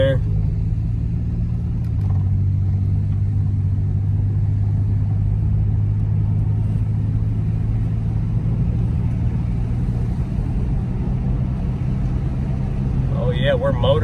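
An old Oldsmobile with a big hood ornament drives along, its engine holding a steady low rumble and drone throughout, heard from inside the car.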